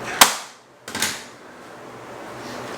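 Staple gun firing staples into a wooden canvas frame, two sharp close snaps about a second apart, the second slightly duller, followed by quiet room tone.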